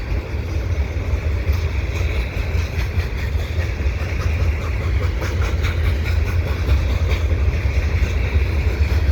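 A continuous heavy rumble with rhythmic clatter of rolling wheels, a long CSX freight train passing close by at steady speed.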